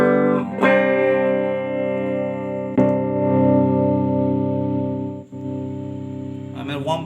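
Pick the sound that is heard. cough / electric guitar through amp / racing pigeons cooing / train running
electric guitar through amp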